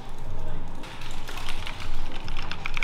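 Clicks from a new computer keyboard come in quick, uneven bursts, close and fairly crisp, with brief pauses between runs of keystrokes.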